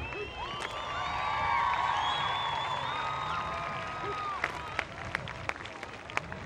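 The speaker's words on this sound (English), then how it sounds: "how about another big round of applause for all of our 2013 Valhalla homecoming" A stadium crowd at a high school football game applauds the homecoming court, with sustained clapping and cheering that swells and then thins into scattered claps and whoops, all heard from some distance.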